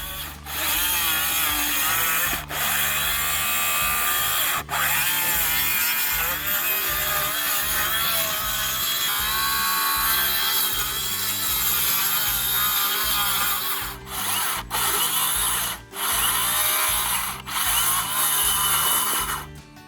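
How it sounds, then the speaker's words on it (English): Power saw cutting through plywood roof sheathing over a rafter during a roof rebuild, a loud continuous whining cut running nearly throughout with a few brief pauses near the end. "I'm going to cut and remove the plywood at a spot that lands right on the center of the rafter."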